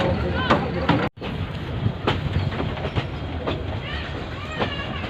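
A passenger train pulls into Mailani station in India, with loud steady rumbling and rhythmic clattering of the wheels heard from on board, a brief dropout near the start, and a voice talking over the noise.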